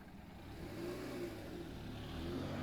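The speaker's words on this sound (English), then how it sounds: "Roger hears a car start up right outside." A car engine in the video game This Is Not Your House revs as the car starts and pulls away, a muffled rising drone under steady broadband noise, fairly faint and continuous.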